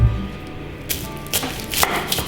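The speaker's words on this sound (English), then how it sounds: "I'm just gonna start by cutting the top off of 2 full garlic bulbs and putting it in a baking dish" A kitchen knife cuts the tops off two whole garlic bulbs on a cutting board, with a few close, distinct chopping thuds at irregular intervals.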